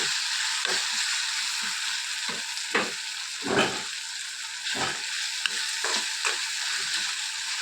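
Brinjal and cucumber chutney ingredients fry in hot oil in a pan, giving a constant bright sizzle broken by repeated scraping stirs and clicks of a spatula, close and steady without talk.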